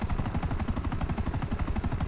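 Rapid, steady bursts of automatic gunfire in the video game GTA 5 repeat without pause, loud and continuous, with no voices over it.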